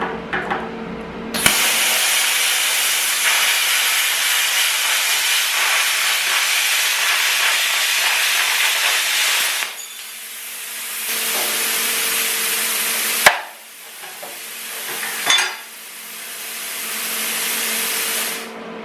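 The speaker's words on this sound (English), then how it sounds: "So we'll go ahead and try this piece of 1/8 inch and see what happens." A PrimeWeld Cut 60 plasma cutter slices 1/8 inch steel with a loud, close, harsh hiss that runs steadily for about eight seconds, then breaks into shorter bursts with brief pauses between them.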